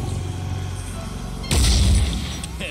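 Weapon firing in the video game Phoenix Point: a single heavy boom erupts midway through, loud and broadband, then decays over about a second, following a low, steady game ambience.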